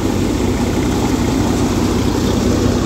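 A Swaraj 855 tractor engine running steadily at idle, a loud, close, continuous low diesel rumble with an even throb and no pauses or voices.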